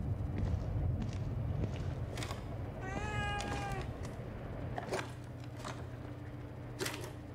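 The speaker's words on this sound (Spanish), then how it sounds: "¡Gatito!" A cat meows several times over a low background hum and soft clicks, the longest call drawn out in the middle, with a few shorter sharp mews before and after, near and moderately loud.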